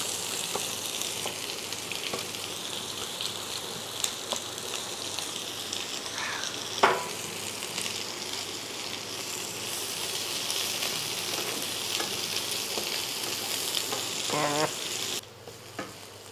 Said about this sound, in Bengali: এবারে পেঁয়াজটা দেওয়ার পালা, পেঁয়াজ দেবো আমি।